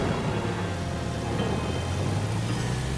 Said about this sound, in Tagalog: bumuhos na nga ang malakas na ulan